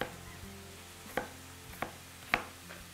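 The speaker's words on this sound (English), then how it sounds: "Potato, skin and all. We're going to cut that up." A knife chops through a skin-on potato on a cutting board for beef stew, with four sharp, separate cuts spaced about half a second apart against a quiet kitchen background.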